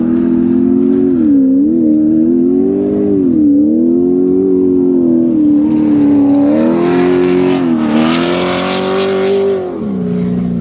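An off-road race motorcycle in the Best in the Desert Vegas to Reno desert race roars close by, its loud engine note wavering as it revs and sweeps past, rising in intensity near the end.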